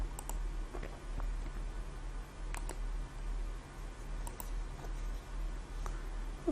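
Card details typed on a computer keyboard, faint scattered key clicks over a low steady hum, with no speech.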